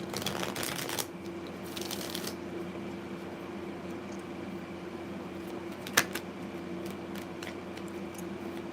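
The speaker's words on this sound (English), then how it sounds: "I'm already shuffling" Tarot cards being shuffled by hand, a couple of short papery riffling bursts over a steady low room hum, then quiet with a faint tap.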